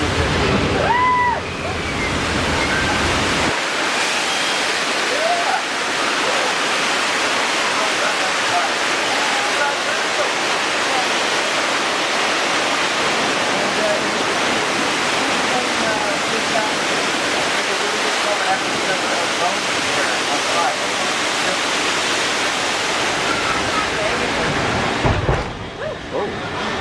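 A loud, continuous roar of rushing water from a flood effect on the Universal Studios Hollywood tram tour surges up and holds steady for over twenty seconds, with faint voices from riders under it.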